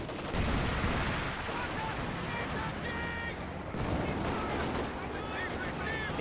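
Gunfire and artillery in Company of Heroes 2 pound a wooden garrison, with rapid rattling shots and heavy thumps. The battle noise stays dense and steady throughout.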